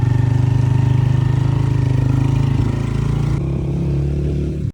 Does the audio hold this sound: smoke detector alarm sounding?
no